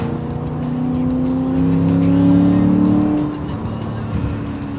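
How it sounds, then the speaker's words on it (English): A tuned V8 car engine with a remapped chip revs loud and close, rising to a sustained high-rpm drone before dropping back to a rumbling idle. "Sounds like a V8 because it is a V8."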